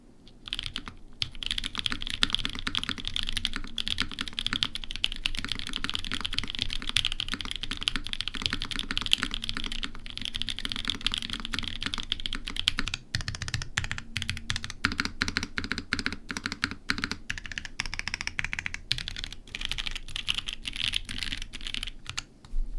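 Fast, steady typing on a mechanical keyboard fitted with Dotnik Pines switches on an aluminum plate, with dense, close-up key clacks continuing throughout.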